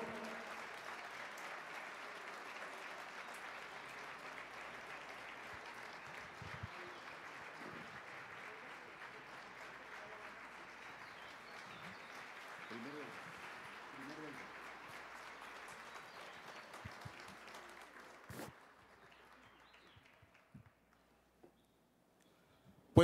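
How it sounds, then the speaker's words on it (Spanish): A large audience at a teachers' union International Women's Day event applauds its national leader with sustained, even clapping for about twenty seconds, fairly faint, then a sudden cutoff and a few scattered claps. "Fuerte que se escuche el aplauso para nuestro líder nacional."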